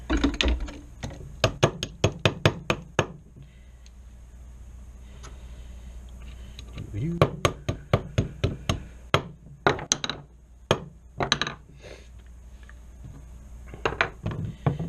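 Sharp metallic taps and clicks from a hammer on Franchi SPAS-12 shotgun parts come in quick clusters, some rapid bursts and some isolated strikes, close by with quiet pauses between.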